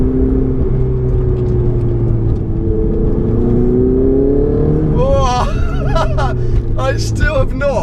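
Ferrari 488 GTB engine hums low while cruising on a public road, then rises in pitch as it accelerates, heard loud and close inside the cabin with some talk.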